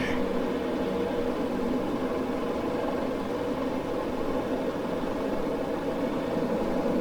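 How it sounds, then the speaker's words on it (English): Piston engines of a Boeing 307 airliner warming up in Microsoft Flight Simulator 2020, a steady droning hum that stays constant and fairly loud throughout with no talking. "Engines are warming up nicely."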